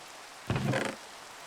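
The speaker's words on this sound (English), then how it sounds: "this Minecraft rain" Minecraft rain, a soft hiss that swells briefly into a louder wash of rainfall for about half a second before fading back to a faint background.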